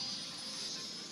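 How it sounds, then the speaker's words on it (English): An in-game A320 jet airliner in Cities: Skylines gives off a steady, faint engine whine and rushing drone for a brief moment, with no speech over it. "We've got these monster A320s here."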